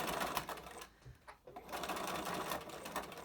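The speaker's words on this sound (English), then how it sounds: "I'm going to top stitch, obviously I'm going to stop where the opening is" A sewing machine top-stitches a fabric face mask in fast, close mechanical clatter, pausing briefly midway before running again.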